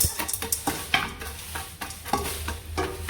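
A spoon stirs milk and sugar with popcorn kernels in a pot on a stovetop, making rhythmic scraping strokes about every half second over a soft sizzle, close and clear.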